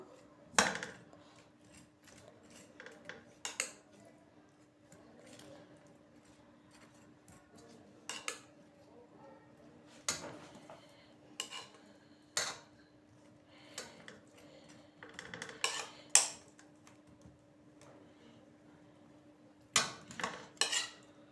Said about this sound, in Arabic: هننزل عليها بالسمك اللي تبلناه وقلناه في الزيت